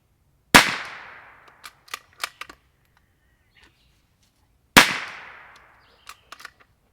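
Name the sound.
Savage FVSR .22 rifle shots, unsuppressed, CCI standard ammunition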